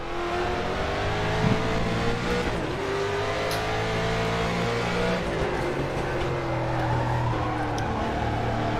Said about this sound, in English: Man, this car is so fun to drive. It just sounds angry.